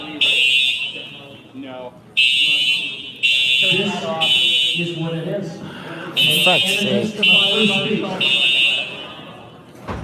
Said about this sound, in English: They pulled the fucking fire alarm on us. Fire alarm pulled.